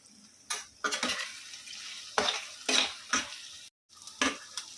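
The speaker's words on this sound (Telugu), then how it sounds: "ఇలా వేగిన తర్వాత కొంచెం కరివేపాకు కూడా వేసేసుకుందామండి" Chicken gizzards and liver fry in a pan with curry leaves added, with a spoon stirring and scraping against the pan in several bursts over a soft, continuous sizzle, close and clear, without talking.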